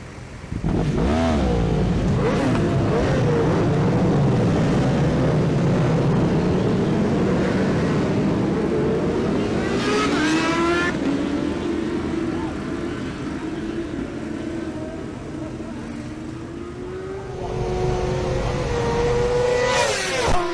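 Supertwin racing motorcycles on a wet, greasy track at Cadwell Park surge off the start, a loud close engine roar rising and falling in pitch as bikes accelerate, with a fainter stretch midway and engines swelling again near the end.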